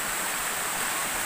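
Engkanto Falls in Libmanan, Camarines Sur, pours in a continuous broadband rush of falling and flowing water, close and steady with no voices.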